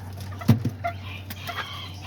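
Chickens on a backyard flock with a half-wild rooster, a few short soft clucks and bursts of fowl calls over a low background hum, fairly faint and close.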